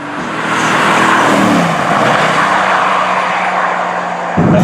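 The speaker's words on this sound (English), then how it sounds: "I want to floor it and be amazed, and I'm flooring it and I'm amazed." Mercedes-AMG GT S engine pulling hard at full throttle, a loud, continuous rising roar with harmonics climbing in pitch, then a shift-like break near the end.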